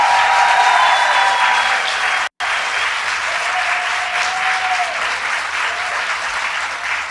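A large audience applauds steadily for legislators after a vote at a political gathering, with dense, continuous clapping broken by a brief cut, while faint voices and cheers rise over it.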